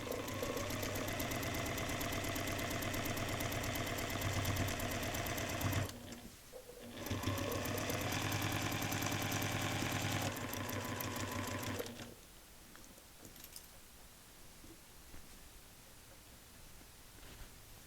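A sewing machine stitches slowly through several layers of a paper-pieced star quilt, running loud and steady for about six seconds, pausing briefly, then running again before stopping, leaving quiet handling sounds.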